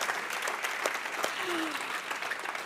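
An audience at a UN awards ceremony applauds in a steady burst of clapping that fills the hall, with a faint voice briefly heard underneath.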